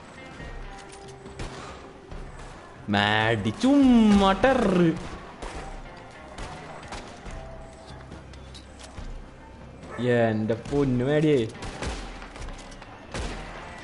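Bursts of rapid gunfire in the video game Red Dead Redemption 2 crackle in two loud volleys, with someone talking between and around the shots.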